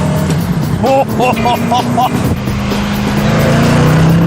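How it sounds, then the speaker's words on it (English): A British car's 4-litre Rover V8 engine drones loud and near, its pitch rising steadily toward the end, while someone talks over it. "that engine, 4 litre, well proven, Rover V8"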